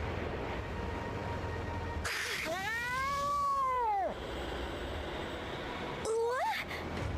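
A cat meows in the Bravely Second video game: one long, drawn-out caterwauling cry, then a shorter meow a few seconds later, both over a steady background hum.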